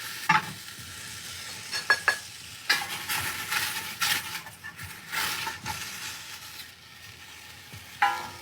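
Veal bones and vegetables sizzle in a pot as they are stirred, with steady frying hiss broken by scraping spoon strokes and brief clatters, close and fairly loud without talk.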